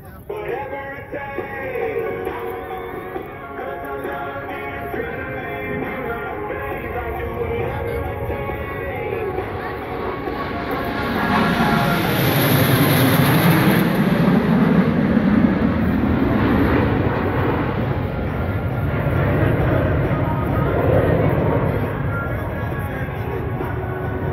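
Blue Angels diamond formation of four jets passing at an air show in Terre Haute, a broad roar swelling from a steady drone to a loud peak midway as the aircraft pass close, then lingering as they recede.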